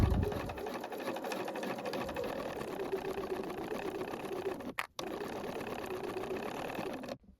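A sewing machine runs a long continuous topstitch along a blouse seam, a steady mechanical whir close by with a brief pause near the end before resuming.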